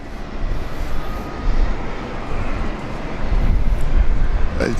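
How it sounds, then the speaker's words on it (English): A Jetstar aircraft is pushed back at Brisbane International Airport amid a steady, loud rumbling engine drone that builds slightly toward the end, with no clear talking. "He's pushing out the Jetstar."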